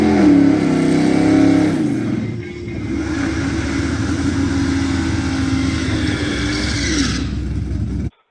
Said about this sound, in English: I got Austin trying to pass in the Camaro